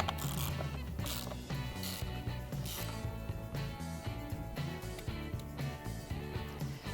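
A fastener is ratcheted tight on the battery of a 2014 Volkswagen Passat, with close, steady rapid clicking of a ratchet mechanism running throughout.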